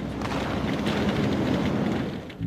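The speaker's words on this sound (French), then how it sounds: "Alors que les feux d'artifice explosent dans le ciel, Giap lance son offensive." Fireworks explode in the sky as a dense, continuous rumble of overlapping booms that briefly dips before a final burst, with no voices.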